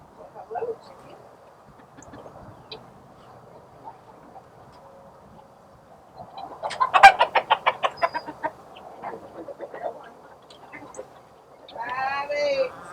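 Chickens at a permaculture farm feeding time, clucking in a burst of rapid, fairly close calls midway, with softer scattered clucks and low background noise before and a brief squawk near the end.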